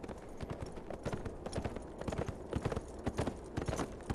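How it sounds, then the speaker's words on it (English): Horses' hooves clip-clop steadily as riders travel up a slope toward an old shack, a quick, close, continuous rhythm of hoof strikes heard alone with no talking. "So, Maud and Mr. Death, they rode up the slope until they come to a little old shack"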